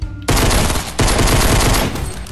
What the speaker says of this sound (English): Someone tried to shoot me.